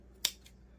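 Scissors cutting craft material for a no-sew Christmas nativity scene: one sharp, close snip followed by a fainter second snip, with no talk.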